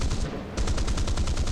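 Rapid bursts of automatic gunfire in the War Thunder simulator battle, loud and close, with evenly spaced repeated shots forming a continuous rattling stream after a brief pause.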